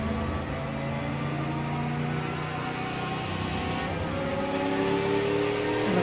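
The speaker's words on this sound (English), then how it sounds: "Jaguar V12, isn't that lovely?" A Jaguar V12 prototype race car engine in Project CARS 2 howls in a loud, steady drone. Its pitch climbs slowly as the car accelerates at close range, and no one talks over it.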